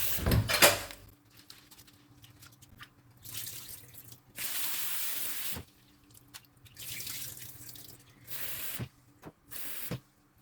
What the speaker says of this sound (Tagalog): hugasan natin ang ating malagkit